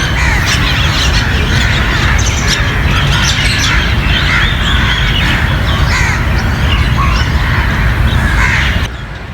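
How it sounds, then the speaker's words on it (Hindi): Crows caw and squawk loudly over chirping birds on the grounds of Islamia College in Peshawar in the afternoon, a dense, continuous chorus close by that drops off abruptly at the end. "ये असर का टाइम होता है ना, तो परिंदे आवाज़ें निकालती है"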